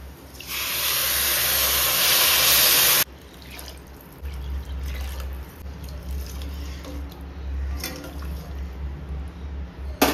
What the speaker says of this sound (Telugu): ఇప్పుడు ఇందులో ఇంకా నీళ్లు వేసుకోవాలి